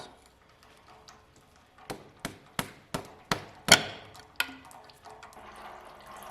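A car axle being pried loose from a Pontiac Fiero on a turbo LS4 engine swap, giving a run of about seven sharp metallic knocks at a steady pace, one stronger than the rest, then a few fainter clinks.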